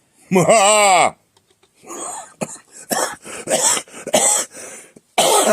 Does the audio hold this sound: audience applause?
no